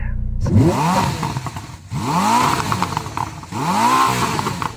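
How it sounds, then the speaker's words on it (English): A Ferrari SF90's V8 revs hard three times in close succession, each blip rising and falling sharply, loud and close with no talk over it. "Nick, let's have a listen to your V8."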